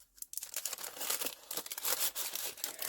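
Paper crinkling and rustling as pages of a grungy handmade butterfly journal are flipped, with crisp, continuous crackles and bursts, close and fairly loud, no voices.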